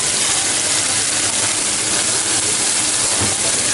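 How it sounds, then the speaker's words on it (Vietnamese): A chef fries rice and stir-fries meat with vegetables in a compact indoor kitchen at a shopping-mall eatery, giving a loud, continuous sizzling hiss that holds steady throughout. "vừa chiên cơm vừa xào thịt với lại rau"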